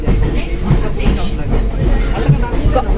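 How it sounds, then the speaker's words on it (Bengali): A train from Bandel toward Howrah rumbles steadily along the rails with a rhythmic clatter of wheels, loud and close as if heard from inside a carriage. "তিনটে বাহান্ন ট্রেন আমরা ধরেছি ব্যান্ডেল থেকে"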